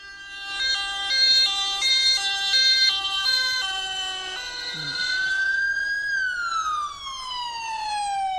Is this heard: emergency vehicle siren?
yes